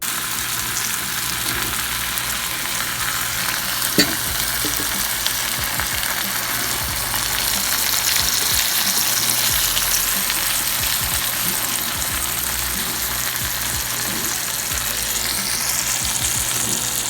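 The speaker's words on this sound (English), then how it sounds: "today I'm going to cook it on top of the stove and then brown it in the oven" Kugel cooking in a heavy-bottomed pan on a stovetop, giving a steady, even sizzle and bubbling hiss that runs unbroken throughout, close and moderately loud with no talking.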